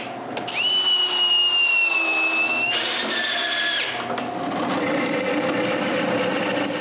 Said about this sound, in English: I need to screw them in place